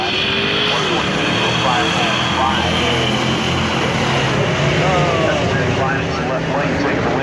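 A Mustang launches at a drag strip among supercharged and muscle cars, a loud continuous engine roar with rising and falling revs in the distance, under an announcer's voice speaking over it.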